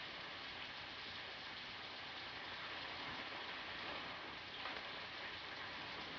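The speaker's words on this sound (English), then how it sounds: "It's raining." Steady rain falls in a 1948 film scene, giving a soft, even hiss that continues without a break and with no voices over it.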